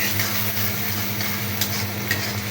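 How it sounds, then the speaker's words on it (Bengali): Khagran shoots stirred and cooking in a pan, with a steady close sizzle and frying hiss broken by a few scraping stirs, no voices. "এখন খাগড়ান রান্না হচ্ছে।"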